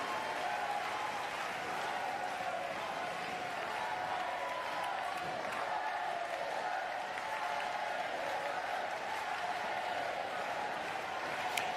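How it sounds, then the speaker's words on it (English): A crowd applauds in the background at a para table tennis standing doubles match, a constant, moderately distant wash of clapping and murmur that stays at the same level throughout. "You have the crowd in the background"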